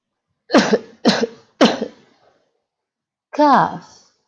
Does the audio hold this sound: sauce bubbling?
no